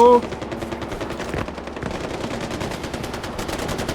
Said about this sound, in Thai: เสียงอะไรอีกแล้วใครยิงกันอีก